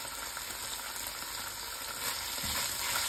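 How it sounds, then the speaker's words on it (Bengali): Shrimp and spices frying in a hot pan, a dense, steady sizzle with crackling pops and a bit of stirring, close-up and continuous with no voices. "মশলাটা একটু কষাইয়ে নিই"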